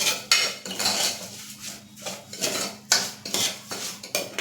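A utensil stirs cracked wheat with cardamom powder in a pot, giving repeated scraping and clinking strokes in an uneven rhythm, close and moderately quiet.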